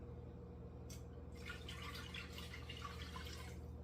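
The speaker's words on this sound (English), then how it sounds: "I'm going to add in our cup and a half of water." A cup and a half of water poured into a soup pot while making tomato soup, a steady close splashing trickle running through most of the moment over a low background hum.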